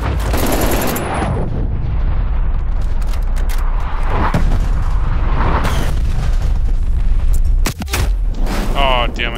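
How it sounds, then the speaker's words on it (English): Dense booming blasts and gunfire from an artillery strike in a Demolition-mode shooter match, loud and continuous with sharp impacts throughout, a voice talking over the barrage. "Hostile artillery targeting active. Artillery inbound."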